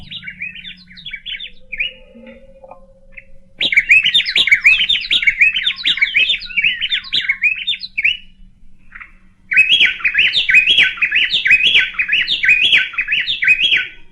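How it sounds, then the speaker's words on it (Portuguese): A curruíra-açu wren sings in two long bursts of rapid, bright, bubbling trills that are loud and close, after a quieter stretch of softer chirps, with no voices present. "A curruíra-açu revela seu talento musical."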